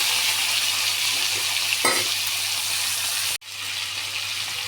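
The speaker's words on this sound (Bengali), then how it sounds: "তেল গরম হয়ে গেছে, মাছগুলো ছেড়ে দিলাম।" Fish sizzling in hot oil in a home kitchen, a steady loud hiss of frying that carries on with no talk, broken briefly by a sharp drop near the end.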